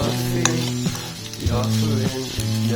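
Nasi goreng fried rice sizzles in a pan, a steady loud fry broken by a few scraping stirs and clinks of a utensil against the metal.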